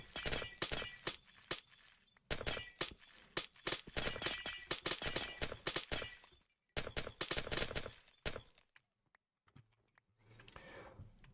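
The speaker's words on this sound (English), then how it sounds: "just the relaxing sounds of shattering glass" Glass shattering in Minecraft, a rapid run of sharp breaking crashes in quick bursts. The crashes pause briefly, resume in a second cluster and taper into a few scattered hits with faint background noise at the end.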